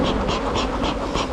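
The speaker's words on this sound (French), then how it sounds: "les abeilles qui me tournent autour" Honey bees buzz around a beekeeper during an artificial hive split, a loud, close, continuous drone with a steady pulsing hum.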